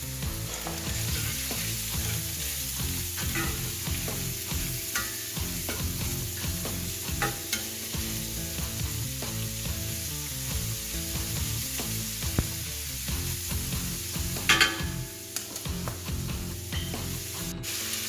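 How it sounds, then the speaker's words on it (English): A fully cooked ribeye steak sautés in a pan of carne guisada, giving a continuous crackling sizzle with scraping stirs and clinks of utensils, fairly close, and no one talking. "putting in the fully cooked ribeye steak. Let this saute a little bit, soak up some of that flavor."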